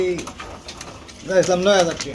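Pigeons coo in low, rolling throaty calls at a pigeon sale, with a short coo early on and a longer, louder run of cooing later, amid background chatter of people talking.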